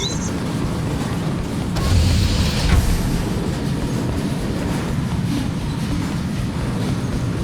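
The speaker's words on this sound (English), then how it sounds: "You could catch a train. They have Intratube here, same as the base. And one is just arriving at the station to your left." Intratube train pulling into a station in the Ghostrunner video game, a steady loud rumble of rolling rail noise with a swell and clatter around the middle as it arrives, no voices.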